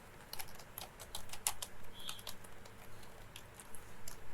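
Someone types on a computer keyboard while setting up an animation project, giving quiet, quick, irregular keystroke clicks with no voices.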